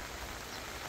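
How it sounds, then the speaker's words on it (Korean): Steady rain falls on a farm on a June morning, a dense, even hiss of drops close by with no pauses or voices. "반가운 빗소리를 들으려고 이렇게"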